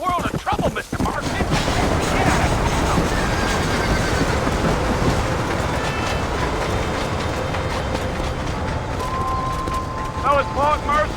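A horse being ridden in Red Dead Redemption: steady, rhythmic hoofbeats run throughout, with a sharp impact near the start and high, wavering whinnies breaking out toward the end, close and fairly loud.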